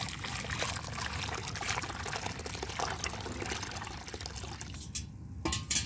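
Water poured over a fertilizer mix to soak it for filling grow bags, a continuous close splashing, gurgling stream that tapers off near the end with a few small knocks.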